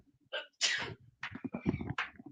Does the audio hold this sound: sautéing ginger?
no